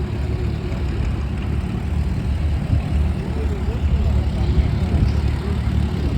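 A quiet tractor engine runs steadily at a tractor pull, a low continuous rumble that stays even throughout with no talk over it.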